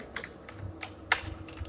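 Computer keyboard keys tapped in short clusters of quick clicks, a domain name typed close and clear with brief pauses between bursts.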